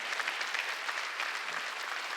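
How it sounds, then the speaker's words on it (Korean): A church congregation claps together during a Sunday worship service, producing a dense, steady patter of many hands that lasts a couple of seconds, fairly close and even in loudness. "하나님 보좌 우편에 앉았다고 박수 세 개 치라고요"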